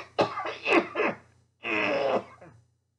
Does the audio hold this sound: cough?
yes